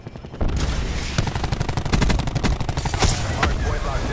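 Rapid bursts of gunfire from a shooter video game, close and loud, forming a dense rattling barrage that runs almost the whole time after a brief quiet start.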